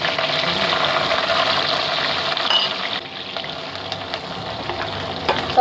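Chopped garlic and green chillies fry in hot oil for egg vegetable fried rice, a steady, close, dense sizzle that keeps going without a break and with no voices.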